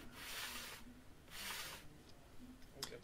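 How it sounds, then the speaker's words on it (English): Sandpaper rubs gently over a glued joint on a SLEC Sky 40 model aircraft in three soft, quiet strokes, each a brief scratchy swish separated by short pauses. "And now I wipe it a few times with the sandpaper, just gently."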